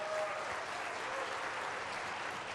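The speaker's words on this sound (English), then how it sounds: "how about a round of applause for our gracious host, Principal Eddie Harden" An audience claps for the school principal at a Wake County Public School System address, a steady, even wash of applause from a crowd at some distance, fairly soft throughout.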